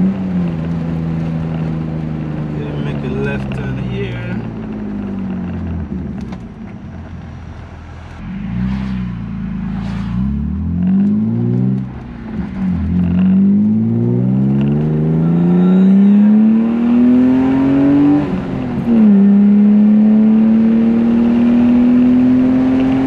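BMW E36 engine revving and pulling through the gears on twisty roads, the pitch repeatedly climbing and dropping at each shift, loud and close from inside or near the car, with no talking.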